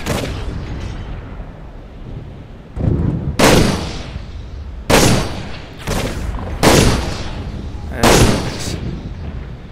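Sniper rifle shots in the video game Toy Soldiers crack out as five loud, sharp reports spaced a second or two apart over a low battlefield rumble.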